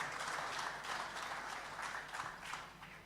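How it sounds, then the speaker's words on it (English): An audience at a regional state address gives a speaker another round of clapping, a soft, steady patter that sounds distant and fairly faint throughout. "Let's give Jama another round of a clap"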